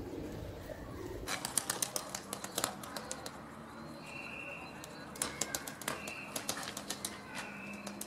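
Turkish tumbler pigeons, a flying breed kept in Algeria, make soft cooing and quick clattering sounds close by in a quiet loft, repeated in short bursts, while someone talks in the background.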